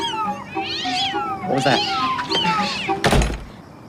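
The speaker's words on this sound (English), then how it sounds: "My mom and her friends are having a cat circus." Several cats meow and caterwaul together at a gathering in a sitcom scene, loud overlapping cries, with a person talking and a thump near the end.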